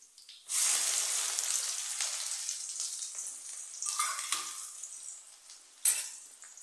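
Chopped onion hits hot oil in a pan while cooking Gujarati green chickpea curry, bursting into a loud, steady sizzle that holds for several seconds, with a couple of brief utensil clinks partway through.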